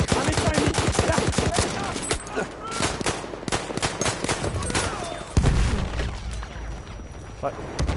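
Rapid bursts of gunfire in the Battlefield 1 video game, loud and close and densest at the start, with other battle noise and a heavy thump midway, while voices talk throughout.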